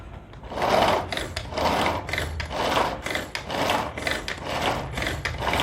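Pull-cord vegetable chopper dicing small onions, a series of rapid whirring, rasping pulls repeating about once a second, close and moderately loud, with no talk.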